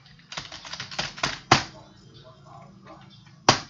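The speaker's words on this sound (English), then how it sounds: "I'm using the laptop keyboard" Keys tapped on a laptop keyboard during play of the PC game Family Feud (2000): a quick burst of close clicks, then two sharper, louder isolated strikes, with a voice talking over them.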